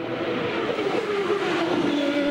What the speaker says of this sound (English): All Cosworth engines, turbocharged V8s.